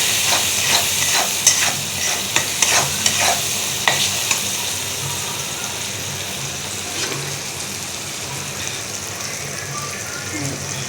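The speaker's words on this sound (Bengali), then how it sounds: "এই যে এটা হলো পাতাকপি, গাজর, আলু সব মিক্স করে একটু ভাজি করবো, একটু ভাজা" Cabbage, carrot and potato frying with salt, coriander powder and vegetable masala in a pan, a loud constant sizzle with quick scraping stirs early on, then steady frying alone.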